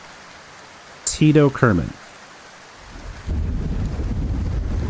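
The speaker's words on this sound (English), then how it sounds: "it's raining on launch day" Rain hisses steadily with low rumbling thunder on launch day in Kerbal Space Program, a short voice speaking first before the steady downpour rises and continues to the end.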